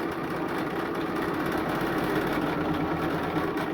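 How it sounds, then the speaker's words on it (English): A sewing machine stitches a fabric collar corner with a steady, continuous whirring hum, close and even, with no speech. "sewing right up to that mark on this corner"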